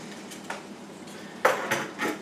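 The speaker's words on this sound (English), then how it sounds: "So we're going to close the oven." An oven door shuts after a ribeye steak is flipped, with a few sharp metallic clanks and thuds spaced over a couple of seconds, close and fairly loud, no voices.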